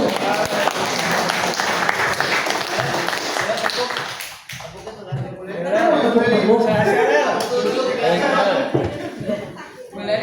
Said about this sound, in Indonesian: berikan tepuk tangan untuk Pak Tintan